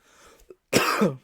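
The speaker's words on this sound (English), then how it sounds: "Sorry that I'm coughing, people." A single harsh cough bursts out close by after a moment of faint rustling, one rough, raspy expulsion lasting about half a second.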